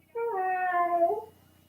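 A person imitates a sad cat meow with the voice, one drawn-out, wavering mew lasting about a second, close and clear with no other sound around it.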